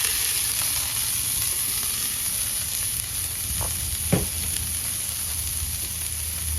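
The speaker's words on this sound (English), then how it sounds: "just cook it until the zucchini starts browning, everything starts browning up" Zucchini, onions and tomatoes fry in avocado oil, giving a steady, loud, close sizzle throughout, with a couple of faint utensil clicks partway through.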